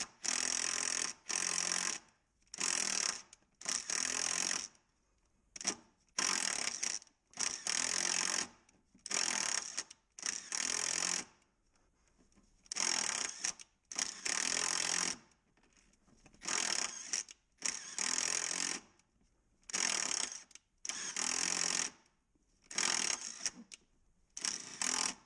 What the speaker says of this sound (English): Using a 12mm long socket, remove the 2 upper bolts.